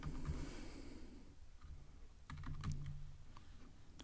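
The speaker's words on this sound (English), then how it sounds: "So I'm going to type here" Close, fairly quiet keystrokes on a computer keyboard in short irregular bursts, with a brief pause between runs of typing and faint breathing in the background.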